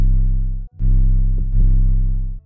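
An 808 bass designed in FL Studio plays alone: two long, deep, sustained booming notes with a short gap between them and slight pitch bends partway through, loud and close.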